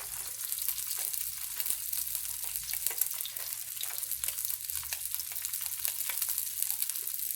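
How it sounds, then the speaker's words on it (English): Salmon sears in a hot pan, giving a faint, continuous crackling sizzle with scattered tiny pops, steady throughout and without voices. "You don't want to overcook your salmon. You just want to sear it on both sides."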